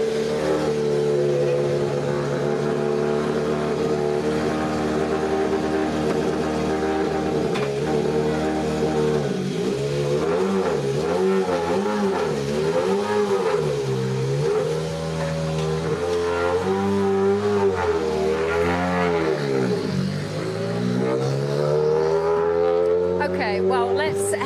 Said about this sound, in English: Now all of our Rally 1 cars have headed out.